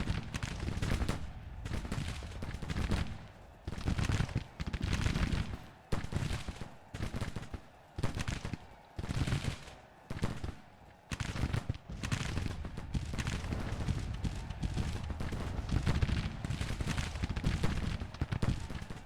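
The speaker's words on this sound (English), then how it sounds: "Don't need to be sitting here getting into a gunfight." A gunfight in Grand Tactician: The Civil War, with dense volleys of musket fire crackling almost continuously in loud, overlapping bursts.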